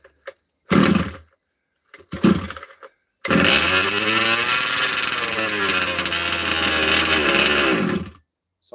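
A cold small engine that has sat unused for two to three weeks, with a 30dnt servo replaced, coughs through two short failed pulls, then fires without choke and runs steadily at a buzzing, loud idle for about five seconds before cutting off.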